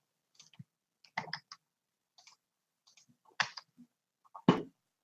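A computer keyboard is typed on, with short, irregular bursts of crisp key clicks spread over several seconds in an otherwise quiet room and no talking.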